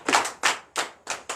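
A church congregation claps in a steady rhythm, five crisp, loud group claps spaced evenly, with no voices over them.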